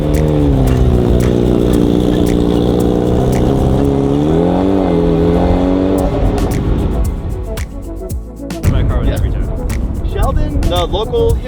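A $40,000 prototype race car roars loudly on a track, its engine note rising and falling through gear changes before a rougher stretch of revving and wind noise, with people talking over it.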